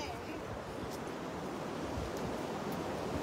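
Steady wind buffets the microphone on a sea shore with surf washing underneath, a continuous broadband rush that stays fairly faint.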